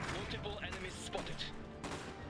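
Gunfire crackles in an Iron Harvest real-time strategy battle, dense overlapping shots and small blasts forming a continuous busy din under game voice lines and a player talking.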